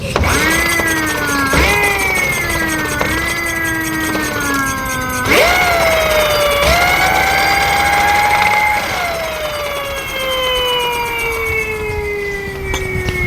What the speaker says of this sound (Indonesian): jadi emang ada sedikit suara dari dinamonya